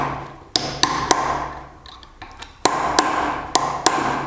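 Hammer blows on a center punch staking nuts during reassembly of a Peugeot 205 GTI gearbox: sharp metallic taps, a few spaced strikes then a quicker series, close and loud.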